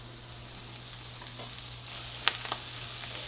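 Chickpeas fry in oil with a soft, steady sizzle heard close up, briefly broken by a light clink of stirring near the end.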